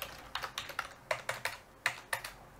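Bursts of keystrokes on a computer keyboard as code is typed for an Arduino EEPROM sketch, in quick irregular clusters of clicks, close and clear with no talking.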